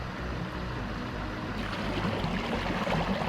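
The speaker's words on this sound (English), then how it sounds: "There's the waterfalls." A Wisconsin waterfall pours in a steady, broadband rush, close and unbroken, with faint rustling movement nearby toward the end.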